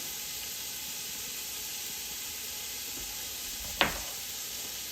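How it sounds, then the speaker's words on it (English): Meat browns in a pot with Italian seasoning, giving a steady low hiss of sizzling. A single sharp clank of a utensil comes near the end. "And you're going to brown that with 2 tablespoons of Italian seasoning"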